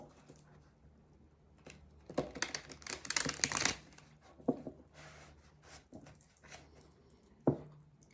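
Tarot cards riffled and shuffled by hand, bursts of rapid papery flutter and crisp slaps, loudest in the middle, with scattered taps afterward and no talk.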